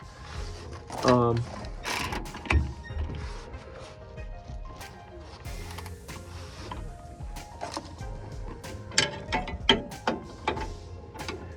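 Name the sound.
tightening a rear shock bolt on a 2001 Ford Ranger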